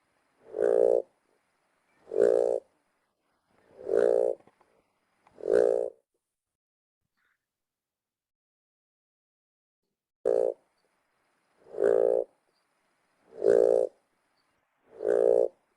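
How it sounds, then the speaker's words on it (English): A Sri Lankan balloon frog gives deep, resonant, evenly spaced calls, each a short low hoot repeated in two series of four with a pause between, loud and close in a quiet setting. "Sri Lankan balloon frog."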